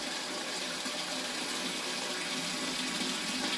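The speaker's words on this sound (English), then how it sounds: "Put my strike water in the boil kettle, bring it up to temperature in here" Strike water pours steadily into a boil kettle during an all-grain homebrew day for an Erdinger-style weissbier clone, a constant, close, dense gushing rush with no talk over it.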